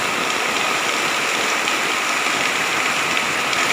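Heavy tropical rain pours down on a flooded campsite in a dense, unbroken roar of water hitting the ground and surfaces, loud and constant throughout.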